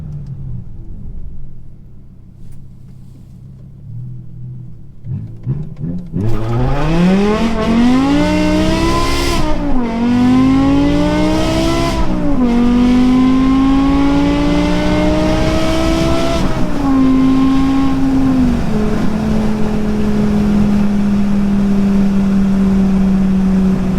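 A BMW M5 E60 with a V10 engine launches and accelerates hard, its rising engine note climbing through several gears with brief dips at each shift, loud and close throughout after a quieter idling start.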